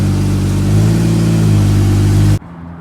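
A BMW 335xi with a single-turbo setup roars loudly up close, its engine note holding a strong steady drone as it pulls under load, then cutting off abruptly near the end.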